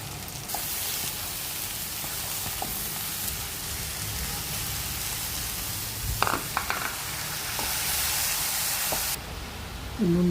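Curry leaves, turmeric and ginger garlic paste frying in a pan for a South Indian prawn vegetable dish, a loud continuous sizzle with brief spatters and a few utensil knocks near the end.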